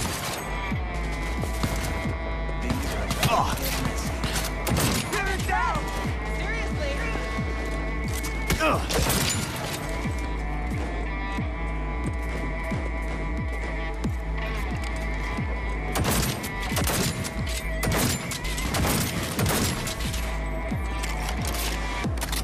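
Gunfire in the video game Cyberpunk 2077, a steady run of sharp shots and bursts layered over droning background sound, with voices speaking through the exchange.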